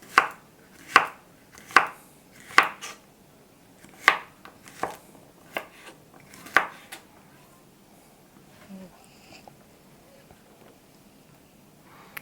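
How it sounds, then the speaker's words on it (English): A knife chops small cucumbers on a cutting board in sharp, close, evenly spaced knocks, about eight strikes in the first seven seconds, then tapering to faint handling sounds. "I'm just going to cut them in half and then cut them in half again"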